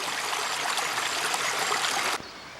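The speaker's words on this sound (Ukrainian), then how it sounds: "Такий струмок тече на на забір залізничного водогону з нашого водозабору." A small stream of water runs into the intake of a railway water main, a steady rushing flow heard close and alone before it cuts off abruptly near the end.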